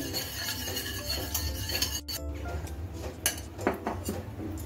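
A spoon clinks and scrapes against a bowl while sugar and salt are stirred into water, producing repeated light metallic taps and rubbing at a steady pace, fairly quiet and close.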